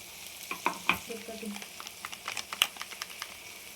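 Chicken gravy masala being stirred in a frying pan, with quiet, irregular scraping and clicking of a spoon against the pan over a soft sizzle, close up and faint.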